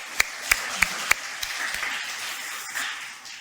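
Applause for the organising team at an opening ceremony, beginning with several sharp, close individual claps in a slow rhythm before a softer spread of audience clapping builds behind them.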